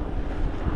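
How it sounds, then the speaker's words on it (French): Wind buffets the microphone on a long mountain bike road ride as a storm nears, a steady low rumbling gust, close and fairly loud, with no voices. "Et là, maintenant, il y a du vent, quoi."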